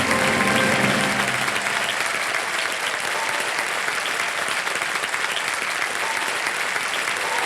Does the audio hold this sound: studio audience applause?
yes